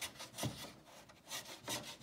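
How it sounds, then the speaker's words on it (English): A hand plane bevels the edge of a cedar strip canoe plank, giving a few soft, close rasping strokes with short pauses between them. "I just put a little bevel on this edge of the plank"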